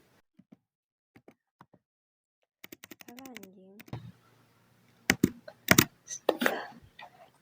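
Computer keyboard typing while entering a search term into a spreadsheet: scattered soft key clicks, then denser bursts of tapping, faint and close, alongside a brief stretch of speech.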